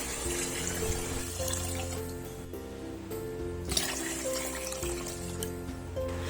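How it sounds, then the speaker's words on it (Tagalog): Tap water runs steadily into a pot of washed glutinous rice, a close, continuous pouring and splashing with no talk over it. "Once na hugasan na, maglagay lang tayo dito ng tubig."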